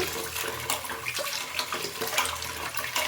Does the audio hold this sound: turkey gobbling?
no